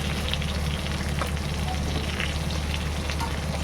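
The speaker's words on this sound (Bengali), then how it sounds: "তো দেখো ওই মাছ ভাজার তেলে দিয়ে দিলাম দুটো শুকনো লঙ্কা" Dried red chillies crackle and sizzle in hot oil left over from frying fish, a steady, loud, dense hiss close by with no voices over it.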